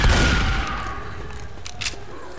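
Gunfire in Left 4 Dead 2 during a four-player co-op fight against a Tank: a loud opening burst settles into dense, steady rattling shots, with a few sharper cracks near the end.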